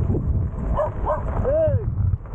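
A dog gives a few short barks near the microphone against a steady background rumble, followed by a higher whining yelp.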